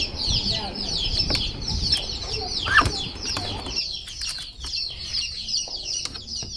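A duck suffering in summer heat, with an apparently blinded eye, gives short, fairly faint calls among rustling farmyard fowl noises.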